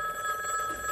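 A telephone ringing with a steady, bright electronic trill, continuous and moderately quiet in a room, with no voices over it.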